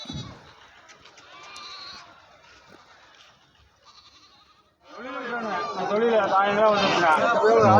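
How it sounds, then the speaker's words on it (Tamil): Goats bleat repeatedly amid a busy crowd of chatter at an early-morning goat market in Narikkalpatti, growing louder and denser in the second half as many animals call over one another. "நரிக்கல்பட்டி ஆட்டுச்சந்தை மற்றும் சேவல் கோழிகள் சந்தை"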